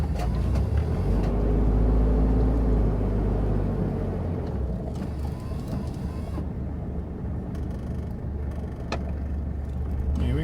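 A diesel engine in a vintage Japanese 4WD RV drives steadily, its low, continuous rumble filling the cab with road noise and no pauses.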